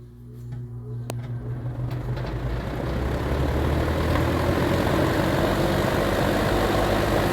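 A vintage Sears Kenmore model 480.81971 fan on high, exhaust setting, spins up and settles into a steady, loud whooshing roar of fan blades moving air, continuous and close, with no talking.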